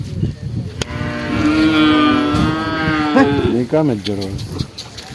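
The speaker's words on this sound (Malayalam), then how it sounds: "ഇത് കാള നല്ല വല്ലാത്ത ജാതി കാള" A bull at a Sunday cattle market in Kollannur gives a long, loud, drawn-out moo close by, rising and breaking near the end, with market chatter and voices around it.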